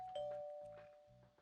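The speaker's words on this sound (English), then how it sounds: "I checked that we were ready and then rang the doorbell." An electronic doorbell chime rings in the video game Collar X Malice: a clean tone followed by several short, evenly spaced chime pulses, alone and quiet.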